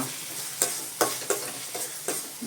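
Prawn masala for a semi-gravy sautés in a pan, a steady sizzle broken by about five regular scraping stirs, close and moderately loud with no talking.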